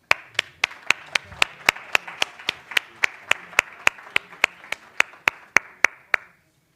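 A summit audience claps in a steady, even rhythm of about twenty sharp claps that stop abruptly. The clapping sounds sparse and close, not like a full crowd.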